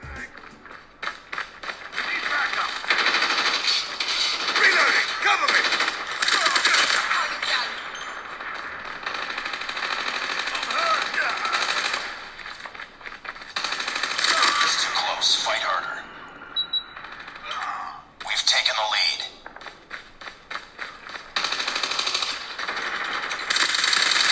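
Mobile game gunfire plays through the two bottom-firing speakers of a Galaxy Z Fold 3: dense bursts of shots, pings and game voices, loud and continuous with brief dips.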